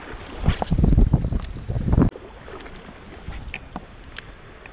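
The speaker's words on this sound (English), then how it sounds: "Starting to get windy." Gusty wind buffets the microphone at a small creek on a rainy day, loud and rumbling for two seconds, then dropping to a quieter outdoor hiss with small splashes and clicks.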